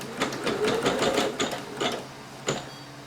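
A Singer Legacy SE-300 sewing machine stitches in short, quick bursts of mechanical whirring, with several runs close together and then a final brief burst. The sound is near and clear, with no talk over it.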